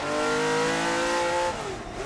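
A Ferrari 512 M race car engine gives a loud, close, sustained high-revving drone with a rich harmonic tone, holding steady before the pitch drops and eases off after about a second and a half.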